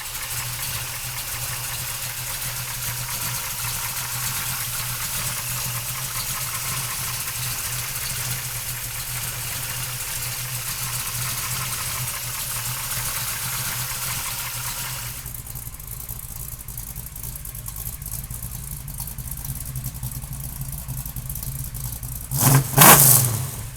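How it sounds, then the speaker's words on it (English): A 1968 Chevrolet Camaro big-block engine runs with a loud, steady mechanical drone that shifts partway through, then rises into a few sharp revs at the end. "we'll fire this baby up for you right now"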